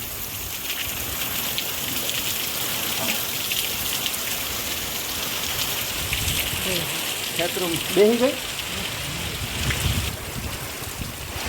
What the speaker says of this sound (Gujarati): જોવો તો મિત્રો જોઈ જો વરસાદ